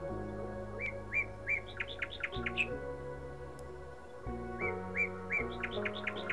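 Small birds sing in bright repeated chirping phrases, two bursts of quick whistled notes over a soft steady low hum, fairly quiet and without talk.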